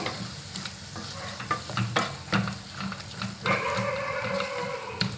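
Spices, a pinch of ground cinnamon and clove with garam masala, being stirred into a hot oily pan for palak paneer, with scraping strokes and steady soft sizzling, close and moderately loud.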